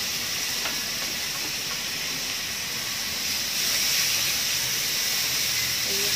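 Garlic, shallots and dried salted fish sautéing in a pan, a steady broadband sizzle and hiss that holds evenly throughout and swells slightly toward the end, with no voices.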